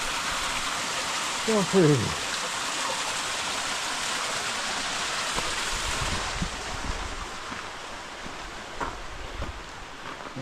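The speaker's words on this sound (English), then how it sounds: "Waterfalls." Waterfalls in Refrigerator Canyon, heard as a continuous broadband rush of falling water with some wind noise on the microphone; a voice speaks briefly near the start over the steady roar.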